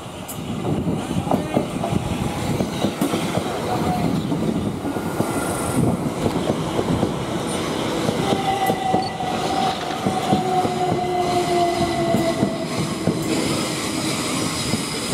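A Southern Class electric passenger train departs Clapham Junction for Brighton, rumbling steadily past close by, wheels clattering over the rails with a faint squeal rising partway through, loud and continuous.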